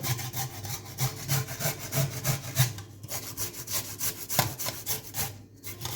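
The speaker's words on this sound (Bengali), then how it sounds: "প্রথমে আমি বিটটা স্ট্যাপারে ঘষে নেব" Peeled beetroot rubbed on a grater makes a steady rhythm of rasping back-and-forth strokes, close and fairly loud, with no talking.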